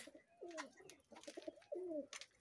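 Pet pigeons cooing close by, several soft throaty coos in quick succession as two birds come to a hand, with light fluttery noises between calls and no talking.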